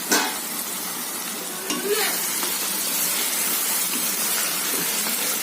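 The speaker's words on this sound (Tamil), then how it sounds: "அடிக்கடி இந்த மாதிரி கிளறி விட்டுக்கோங்க இல்லைன்னா அடி பிடிச்சிருங்க" Chicken pieces fry in a pan with no water added, a continuous sizzle broken by occasional scraping stirs of a spoon against the pan, close and fairly quiet.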